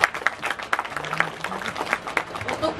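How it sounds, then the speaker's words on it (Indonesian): Applause from an audience at a creator awards ceremony held by the mayor of Bekasi, with dense claps close by, a voice speaking over it and a brief low tone in the middle. "Beri tepuk tangan yang meriah."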